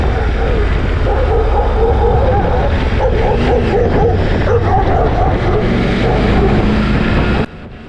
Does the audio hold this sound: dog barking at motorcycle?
yes